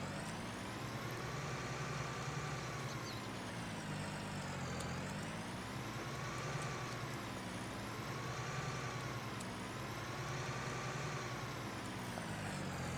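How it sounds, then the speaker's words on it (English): Tractor engine idling steadily in the Farming Simulator 19 video game, a constant low rumble with a slowly wavering whine, unbroken and without talk. "we'll get back in our tractor"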